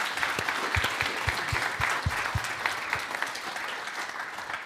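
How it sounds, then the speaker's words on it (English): A conference audience claps after a launch event's speakers, steady dense applause filling the room from start to finish with no break. "please a round of applause to the speakers"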